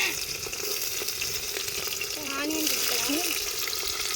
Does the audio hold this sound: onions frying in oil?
yes